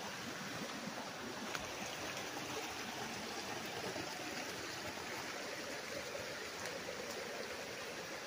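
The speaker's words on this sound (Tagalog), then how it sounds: "Yung magandang sapa mga kaprops." A stream on farm property in Lucban, Quezon, flows with a steady, even rush and babble of water, close and continuous, with no voices.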